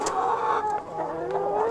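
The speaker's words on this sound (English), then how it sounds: "we're checking out inside this awesome chicken coop" Chickens inside a coop with sawdust bedding, tonal clucks and murmurs from several birds close by over a constant background hum, with no speech.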